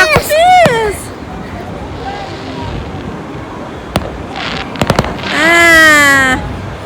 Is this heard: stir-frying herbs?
no